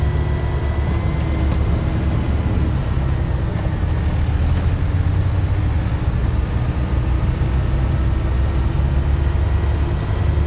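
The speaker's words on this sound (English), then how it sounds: "Listening to that engine just..." A farm tractor engine in Farming Simulator 22 idles as a loud, constant low drone that holds steady without breaks.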